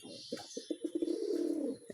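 A pair of black Siraji pigeons, a male and a female, coo in a series of soft, low rolling calls that swell into one longer drawn-out coo, close by with no talking.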